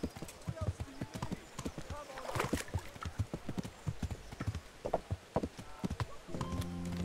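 Horse hooves clip-clop in the medieval role-playing game Kingdom Come: Deliverance, a rapid, irregular run of close hoof strikes with a brief whinny-like texture near the end, and no talking.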